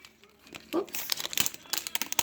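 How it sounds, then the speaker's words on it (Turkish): Foil wrapper of a surprise egg being torn and crinkled open, quick close crackling bursts and small tearing sounds, fairly quiet. "Hemen açmaya başlıyorum. Ben sürpriz yumurtanın içinde açıyorum."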